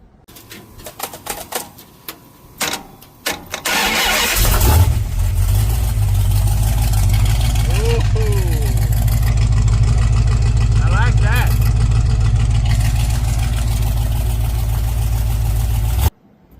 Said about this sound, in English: crank it up and hear what it sounds like. But it sounds awesome.